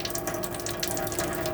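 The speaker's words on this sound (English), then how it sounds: "Once the water's running freely through the taps, as it is now" Water runs steadily from the taps of a 2016 Coachman Vision 450/2 caravan after the pump is switched on, a continuous hissing flow with faint mechanical ticking beneath it.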